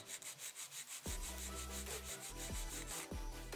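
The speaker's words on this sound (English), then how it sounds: "Now I'm going to file my nail in 5 steps." A nail file rasps against a fingernail in quick, regular back-and-forth strokes, faint and close, with no voices.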